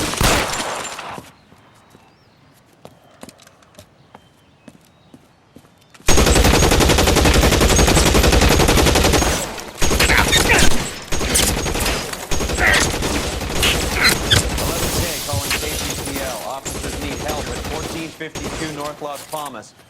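Bursts of gunfire in the L.A. Noire police game at a shootout on North Las Palmas, erupting loud and sustained after a quiet opening, with rapid shots layered over other game sounds.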